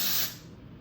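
A makeup setting spray fires one short, forceful hiss of mist up close, loud at first and quickly tapering off within a second, with no talking.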